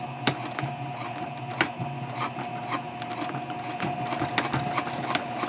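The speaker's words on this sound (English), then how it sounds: "Right now I'm just sewing 1/8 of an inch down the first side." A domestic sewing machine stitching a pocket onto a messenger bag at stitch length 3.0, running steadily up close with a continuous mechanical hum and rhythmic needle clatter, a few sharper knocks along the way.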